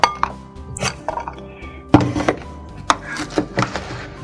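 Beet salad is tossed with sauce in a bowl, giving irregular clinks, knocks and scrapes of utensils against the dish, close and fairly loud, with quiet gaps between.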